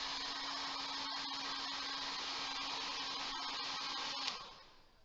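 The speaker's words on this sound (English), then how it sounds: "if I blow the hairdryer at the leading edge of the wing" A hairdryer blows a steady stream of air at the leading edge of a model wing, giving a constant, loud whooshing drone with a faint motor whine. Near the end the sound cuts off abruptly and fades.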